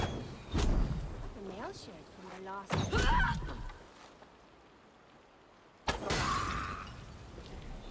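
Crashing shatter of a breakable object smashed in Assassin's Creed Valhalla, a couple of sharp bursts with horse whinnies and game sounds, with someone talking over parts of it.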